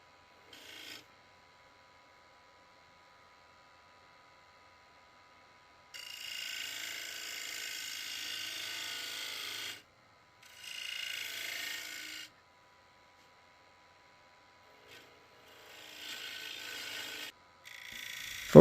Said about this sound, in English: bowl gouge here because I'm really trying to cut into the side grain, not the end grain.